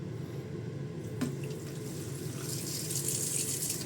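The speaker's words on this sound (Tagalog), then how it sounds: "nalagyan natin ng tubig." Water is poured onto an intercom speaker to test its waterproofing, a steady splashing trickle with a brief sharp knock early on and brighter spattering toward the end.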